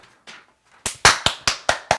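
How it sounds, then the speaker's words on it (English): Hand clapping close up: a couple of soft taps, then a run of six loud, evenly spaced claps, alone with no talking. "Clap!"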